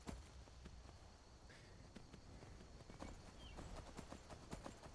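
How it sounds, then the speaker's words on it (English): Horse hooves galloping in the video game Skyrim, a quiet, steady clip-clop of footfalls over a low game backdrop, with no talking. "This might be a slow horse"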